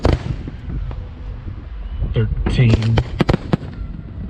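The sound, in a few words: fireworks exploding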